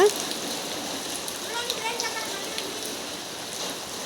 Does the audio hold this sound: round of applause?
no